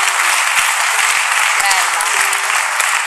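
Studio audience applause greeting a guest on an Italian TV show, a dense steady wash of clapping that fills the whole stretch at full level, with a faint voice briefly cutting through underneath.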